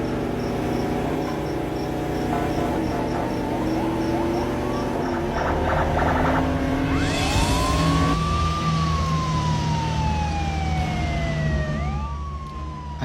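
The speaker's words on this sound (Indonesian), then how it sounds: "tiba-tiba terdengar suara sirine mobil polisi" A wailing police car siren rises and falls over a busy, noisy background with chirping insects, growing more prominent partway through.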